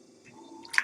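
Cat lapping red clay water, a brief wet squish and a bright drip up close, with light liquid splashing.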